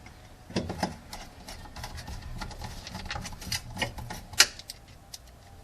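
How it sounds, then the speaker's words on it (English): Small screws being driven back into the metal protector plate over a Lexus ES300 fuel pump, giving a patter of light clicks and taps, close by and moderately quiet, with one sharper tick near the end. "I'm going to start putting all these screws back in."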